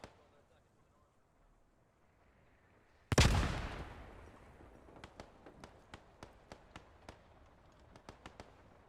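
Bren light machine gun in the video game Post Scriptum: a loud close blast, then a string of sharp distant shots in quick uneven succession, with someone talking in between.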